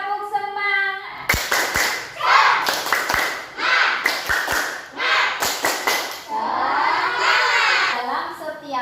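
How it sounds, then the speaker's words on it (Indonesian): A school class claps out a rhythmic spirit clap in several sharp bursts of clapping, with children's voices chanting and shouting between and over the claps. "tepuk semangat."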